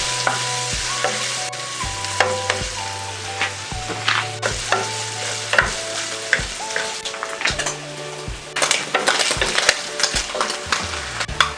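Beef heart and kidney fry in a pan with a steady, loud sizzle, broken by frequent stirring scrapes and clinks and by spattering pops throughout.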